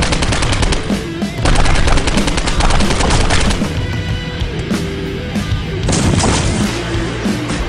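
Rapid bursts of automatic gunfire and shots from the video game Postal, loud, dense and nearly continuous with brief gaps, clattering alone without any voices.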